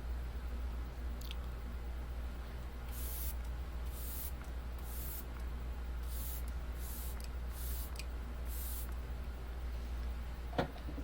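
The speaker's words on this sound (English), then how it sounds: "I spray it so liberally." Facial toner spritzed from a spray bottle in repeated short bursts, several quick hisses in a row against a steady low hum.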